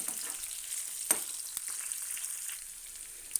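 Chana dal masala curry with green chillies sizzles softly in a pan while being stirred, a faint continuous frying hiss punctuated by a few light utensil clicks.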